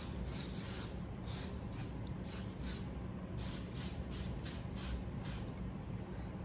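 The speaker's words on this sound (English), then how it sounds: "So I'm gonna take my rusk and just barely give it a good spray." A steady hairspray hissing in repeated short bursts onto a curled wig, close by, with no talking.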